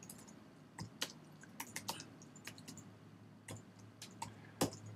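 Computer keyboard keys clicking in quick irregular bursts and single taps during hand coding of web markup, faint and close over a low steady room hum, no talk.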